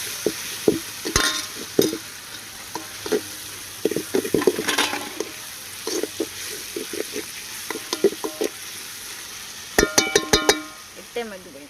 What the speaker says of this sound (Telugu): కర్రీలోకి ఇంక ఉల్లిపాయలు కూడా వేగేసినాయండి